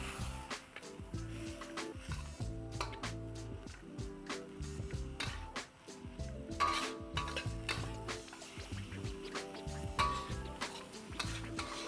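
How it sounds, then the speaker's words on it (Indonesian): Papaya flowers stirred in a cooking pan, with repeated scraping and clinking of the utensil against the metal over a soft sizzle, close and fairly quiet, with brief voices in between. "Ini sambil diaduk kita tunggu beberapa saat"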